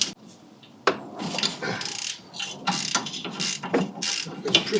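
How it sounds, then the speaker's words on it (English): Ratchet with a 13mm socket undoing a bolt on the seized rear brake of a MK2 Golf, loud and close, with bursts of rapid clicking pawl strokes and metallic scraping repeated over several seconds. "13mm socket. It's on the back, so we can undo this a bit."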